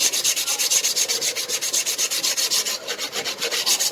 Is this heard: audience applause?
no